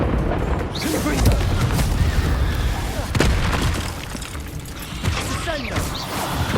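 Confringo blasting spell explosions in Hogwarts Legacy combat, repeated booming blasts and crashes over a dense, loud battle mix, with a voice shouting spell names throughout.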